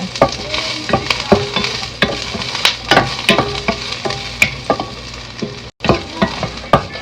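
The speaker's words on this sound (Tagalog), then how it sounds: "Magisa tayo ng bawang sa mainit na kawali." Garlic sautés in a hot pan with a loud, close sizzle, broken by frequent sharp scrapes and taps of a spatula stirring against the metal, with a momentary dropout near the end.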